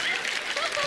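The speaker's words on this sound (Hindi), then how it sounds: "जोरदार तालियां हो जाए अक्षय कुमार जी के लिए।" Studio audience on a comedy show set claps for Akshay Kumar in a very short burst, with voices faintly audible over the applause.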